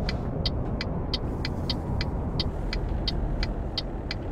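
Mercedes-Benz truck driving in Euro Truck Simulator 2, a steady low engine and road rumble running continuously with a regular series of short high ticks, like an indicator clicking, throughout.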